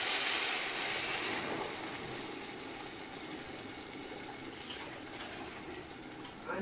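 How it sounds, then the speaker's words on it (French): A litre of water is poured into a cooking pot of beef and okra sauce, giving a steady, close splashing rush that slowly softens as the pot fills. "Donc là, je rajoute 1 litre d'huile. Pardon, 1 litre d'eau."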